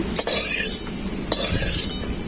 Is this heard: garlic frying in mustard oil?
yes